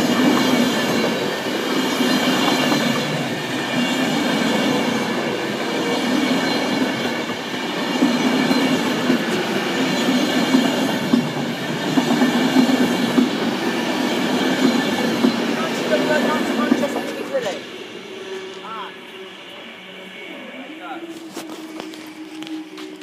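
A train passes the level crossing at Stone Station in Staffordshire with a loud, continuous rumble and wheel noise for most of the clip, then fades away, with voices heard at times.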